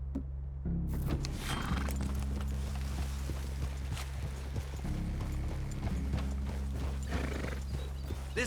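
Horses in the game Red Dead Redemption 2 clop steadily along at close range, with a whinny or two, over a constant low ambient background and no talk.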